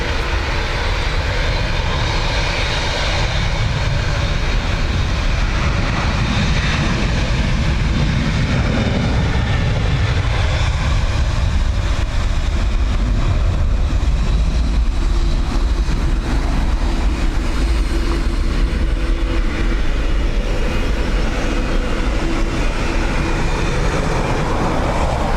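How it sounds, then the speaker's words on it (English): American Airlines Boeing 787 Dreamliner jet at a windy, wet Dublin Airport, its engines producing a loud, sustained rumbling roar that shifts slightly in tone, with a low-frequency swell partway through and no voices. "Second AA Dreamliner, hopefully won't have the same issues."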